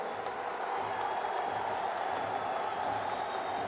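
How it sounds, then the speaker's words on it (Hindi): A large crowd applauding at a political speech, a steady, even wash of clapping from a distance, unbroken and moderately quiet. "जोर से तालियों के साथ मेरी इस बात को"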